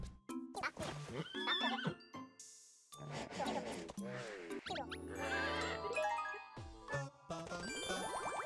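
Horse in the Nintendo game Miitopia giving several whinnies and neighs mixed with jingling chimes and bright tinkling game sound effects, fairly loud, with some voice-like game sounds in between.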